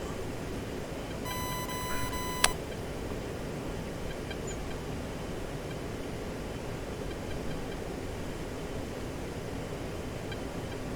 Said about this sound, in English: I hear all these beeps and boops, but I tend to not pay enough attention to them